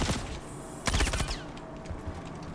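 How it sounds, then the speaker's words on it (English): Rapid bursts of automatic gunfire in the space game Star Citizen, during a bunker mission. Dense volleys crackle loudly, pause, then rattle again in shorter, quieter bursts. "Shots fired. Shots fired."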